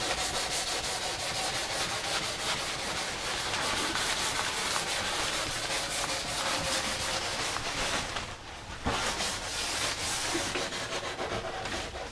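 Fine grit sandpaper rubbing over a surfboard in a continuous, close, steady scratchy hiss, with a brief pause near the end before the sanding resumes.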